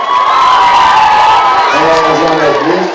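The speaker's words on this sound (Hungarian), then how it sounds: "tapsoljátok meg magatokat!" A large concert crowd at a show in Siófok cheers, whoops and applauds, loud and close, with shouting voices rising over the roar.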